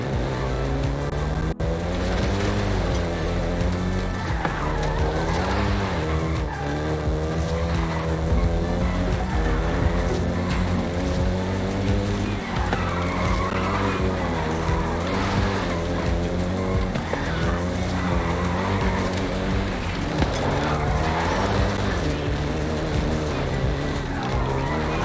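Volkswagen Golf GTI hot hatch driving in Forza Horizon 5, a loud continuous engine drone rising and falling through gear changes, with tire squeals and skids, brief talk at moments.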